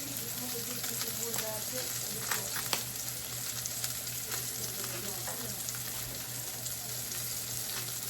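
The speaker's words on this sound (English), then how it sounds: "So let me just let this sear here" A salmon fillet sears in a hot pan, giving a steady, even sizzle that runs the whole time over a constant low hum, with a few brief louder crackles.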